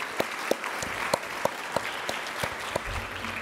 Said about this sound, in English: maybe we should give him a round of applause for that work.